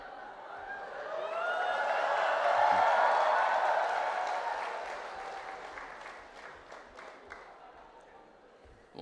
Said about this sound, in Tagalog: pumapalakpak yung mga babae